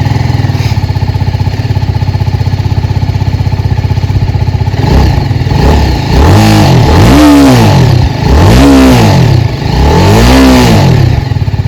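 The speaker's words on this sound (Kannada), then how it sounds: "ಈಗ ಗಾಡಿದು ಸೌಂಡ್ ನೋಡೋಣ ಬನ್ನಿ" A BMW G310RR motorcycle engine idles steadily, then gets blipped in a series of sharp revs, each rising and falling quickly, close up and loud with no talking.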